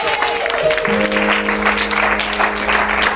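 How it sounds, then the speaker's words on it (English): Clapping fills a church service with steady, dense applause from a congregation, accompanied by a sustained organ or keyboard tone underneath, loud and continuous throughout. "Just clap it for Messiah."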